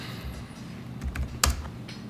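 Keys on a computer keyboard clack in a short burst while a book price is entered. A few soft taps are followed by one sharper, louder keystroke near the end, over a quiet room hum.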